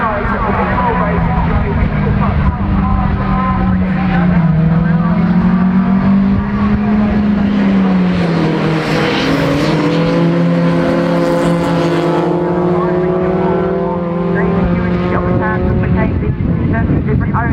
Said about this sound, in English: Dave Ewing does get quite a decent start from the front row, but blocks in the big Volvo is going to take the lead even further